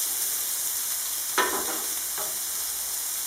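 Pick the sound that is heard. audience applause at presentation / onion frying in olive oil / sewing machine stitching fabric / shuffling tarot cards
onion frying in olive oil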